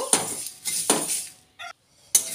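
Ajwain and spices for kasundi are fried and stirred in a pan over medium heat, with a few sharp metal scrapes and clinks of a spoon against the pan in short bursts separated by near silence.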